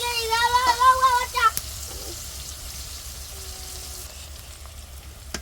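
Cooking oil sizzles in a pan in a home kitchen, a soft steady hiss that follows a voice and a few clinks, holding low and even to the end.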